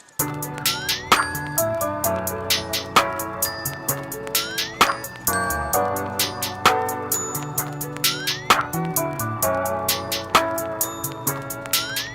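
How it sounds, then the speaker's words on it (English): Bells and chimes programmed into a hip-hop beat in Cubase, bright metallic strikes repeating in a steady rhythmic pattern over bass and drums, loud and alone without talk. "So I want to put the bells and chimes and stuff in the second part of the verse."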